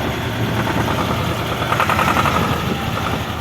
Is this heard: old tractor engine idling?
yes